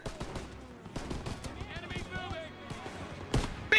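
Gunfire in the Call of Duty WW2 campaign mission Operation Cobra, with scattered sharp shots and bursts through the clip and a louder blast near the end, heard under a player's excited talk.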